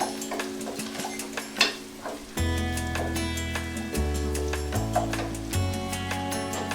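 Spices are stirred in a cooking pan with intermittent scraping and light clinks over a faint sizzle, while steady background music plays throughout.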